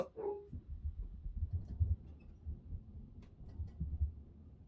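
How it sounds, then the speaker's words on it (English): Dogs barking at home as a family member's car pulls into the driveway, heard as a faint, muffled run of low barks that goes on throughout, with no talking. "I think it's just a family member pulling in the driveway, so they're barking in a very coincidental manner"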